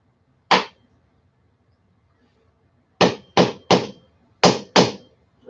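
A metal part is hammered flat on concrete, with one sharp blow followed after a pause by a quick series of five loud, close strikes.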